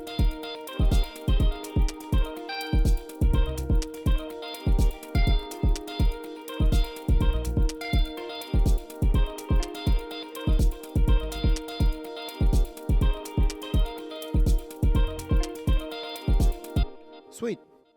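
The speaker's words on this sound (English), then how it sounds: "I could use LFO3 to modulate LFO depth 2 with maybe a sample and hold" An Elektron Octatrack plays a sample whose modulation is driven by a sample-and-hold LFO. Chopped, punchy hits repeat in a steady rhythmic loop with shifting tonal variation, loud and close, with no talking.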